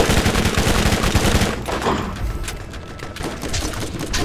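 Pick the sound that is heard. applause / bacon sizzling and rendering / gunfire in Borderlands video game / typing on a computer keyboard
gunfire in Borderlands video game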